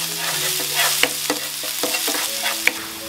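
Shrimp in fish sauce sizzles steadily in a hot pan while a utensil stirs and scrapes through it in irregular strokes.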